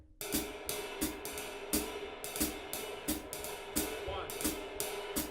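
Uptempo jazz drumming playing a permutation on the second melody, shifted by an eighth note: crisp, evenly spaced cymbal and snare hits in a fast, steady pattern, close and clear, with no talking.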